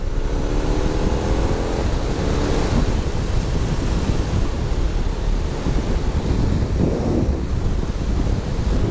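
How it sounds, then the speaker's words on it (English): Strong wind roars and buffets against a cyclist's helmet microphone while riding with a tailwind, a steady loud broadband rush with no voices. "At least I'm going to be going with the wind now."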